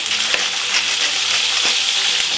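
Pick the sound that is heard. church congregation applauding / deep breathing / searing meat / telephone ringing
searing meat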